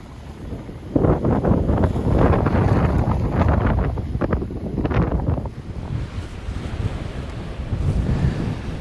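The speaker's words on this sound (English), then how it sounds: "It's kicking up some big waves against that wind as well." Big waves break against a strong wind along the shore at Silloth promenade in Cumbria, a continuous rushing surf heavily buffeted by wind noise on the microphone, loud and close.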